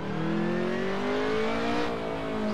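A 1986 BMW M3 E30 Group A race car engine in the Assetto Corsa driving game revs and climbs in pitch, a steady, prominent drone with no talking.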